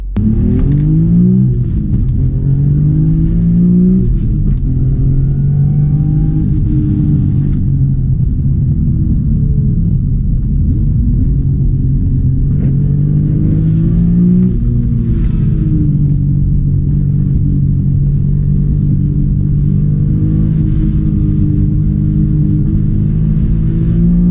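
A BMW M car engine hums and rumbles steadily from inside the cabin, rising and easing as the car accelerates, with a few throttle blips along the way.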